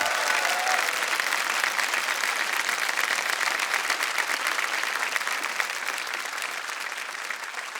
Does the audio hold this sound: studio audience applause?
yes